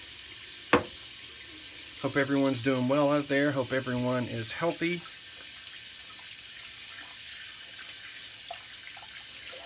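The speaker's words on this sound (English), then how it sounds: "So, get a little water going in the sink here." Water running from a bathroom sink faucet, a faint steady hiss running throughout, while someone talks over it in the middle of the stretch.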